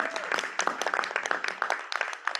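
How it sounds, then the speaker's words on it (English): Applause for a new school principal at a community board meeting, a brief patter of scattered claps from a modest audience, fairly faint, with voices mixed in. "Can we get a round of applause for her"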